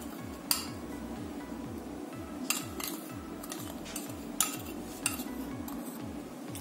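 Oil and powdered sugar being whisked together in a bowl, a steady rapid scraping and tapping rhythm of the whisk against the bowl, with a few sharper clinks.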